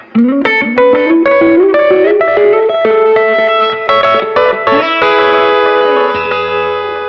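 Heavily distorted electric guitar plays a rising run of notes, then rings out on a sustained chord, loud with effects and reverb.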